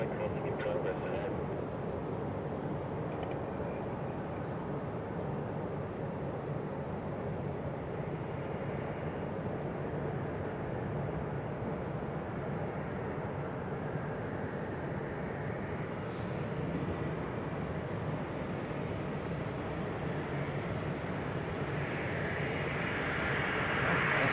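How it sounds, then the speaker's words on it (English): A Swiss Airbus A321 airliner runs up its engines on a winter day at Zurich Airport, giving a steady, distant roar that holds throughout and swells slightly toward the end. "Also the Swiss A321 is doing a run-up"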